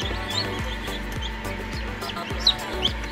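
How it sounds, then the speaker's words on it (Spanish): Newly hatched Brahma chicks peep and cheep steadily inside a homemade incubator, with soft repeated low thumps and clucking-like calls close by, continuous over a few seconds. "varios pollitos que van saliendo, van secándose"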